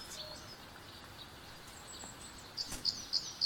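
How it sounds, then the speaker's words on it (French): Faint, high bird chirps repeat a few times near the end over quiet outdoor ambience, with a light rustle in between. "Maintenant qu'on ne fait plus de bruit, on peut entendre les oiseaux."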